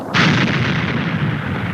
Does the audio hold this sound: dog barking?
no